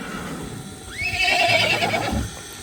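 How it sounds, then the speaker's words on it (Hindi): A young colt gives a loud, close, rising whinny that trails into a rapid quavering neigh, with shuffling and a thud beneath it while being handled for a bath. "फिलहाल तो कासिम की और बछेरे की कुश्ती चल रही है"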